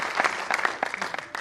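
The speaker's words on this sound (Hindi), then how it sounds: "एक बार जोरदार तालियां।" An audience claps for a mentor at a business gathering, a brief burst of moderately loud applause from a crowd.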